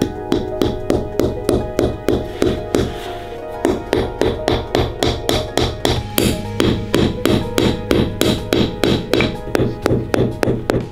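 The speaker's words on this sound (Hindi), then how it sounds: "यहाँ के लोग जरूरत पड़ने पर जमे हुए फलों को हथौड़े की तरह भी इस्तेमाल कर सकते हैं।" A frozen banana used as a hammer in extreme cold, striking repeatedly in a steady, fast rhythm of sharp, loud knocks, with a brief pause near the middle before the blows resume.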